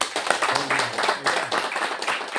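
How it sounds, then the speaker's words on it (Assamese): Churchgoers at a worship service clap together in a broad, steady wash of applause, with murmuring voices mixed in beneath the rhythmic hand claps. "এবাৰ তালি বজামি নেকি?"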